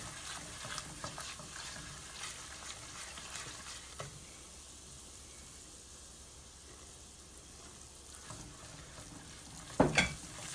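Flour being stirred into pork chop gravy in a pan: a quiet, steady sizzle with soft scraping strokes and occasional clinks, ending in a sharper knock near the end.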